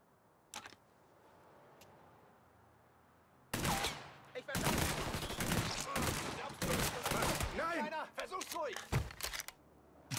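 Gunfire in Mafia 3, a short shot early on and then a dense burst of loud rapid shots and impacts over several seconds, with speech mixed in.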